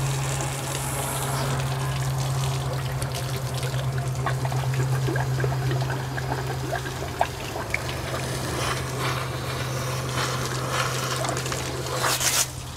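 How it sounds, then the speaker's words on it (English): Water runs through a brine maker pump to flush out salt brine, a continuous rushing pour and trickle with a steady low pump hum beneath, fairly quiet with occasional clanks. "We can actually, if we want to, go ahead and put water through here,"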